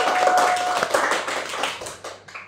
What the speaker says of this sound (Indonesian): Kita kasih tepuk tangan dulu buat anak-anak di sini.